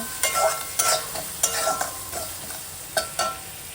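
Ginger, garlic and tomato with salt being stir-fried in a pan, a spatula scraping and turning the food in several distinct strokes over a soft, steady sizzle, close and clear with no talking.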